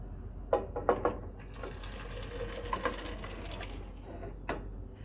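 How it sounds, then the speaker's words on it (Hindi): Cooked chana dal being poured into hot ghee in a pot, a soft liquid pouring and splashing with a few brief clinks, faint and close. "अब दाल को हम डाल देंगे घी में।"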